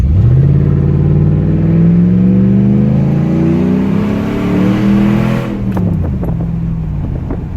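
A 2010 Ram 1500 Sport 4x4 pickup with a 5.7 V8 accelerates hard from a dead stop with traction control off, its loud engine rising steadily in pitch through several seconds before easing off into a lower rumble.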